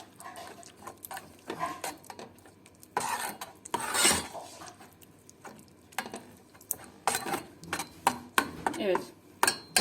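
Tomato paste sauce with cumin stirred for kısır, a spoon scraping and clinking against the bowl in irregular bursts of varying loudness, close and without talk.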